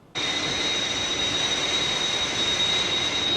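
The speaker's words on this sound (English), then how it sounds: "There's another aircraft dead ahead of us." An animated aircraft roars into earshot with an abrupt onset and then holds a steady, even whine with a sharp high tone over a broad rushing hiss, with no talk.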